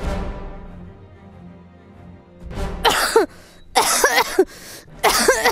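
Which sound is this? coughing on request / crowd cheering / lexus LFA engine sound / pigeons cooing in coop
coughing on request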